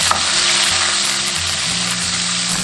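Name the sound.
stir-frying scallion, ginger, garlic and chili in hot oil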